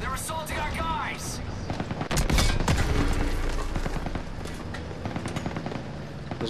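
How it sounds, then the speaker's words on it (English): Small arms gunfire rattles through a Call of Duty WWII battle, dense overlapping rifle and machine-gun shots with heavy impacts, while soldiers shout over the fusillade. "Small arms fire! They're assaulting our guys!"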